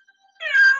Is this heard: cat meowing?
yes